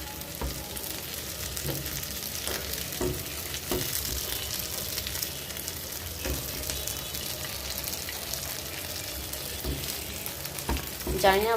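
Fish frying in a wok, a moderate bubbling sizzle with intermittent sharp taps and scrapes of a utensil against the metal, steady throughout without spoken words.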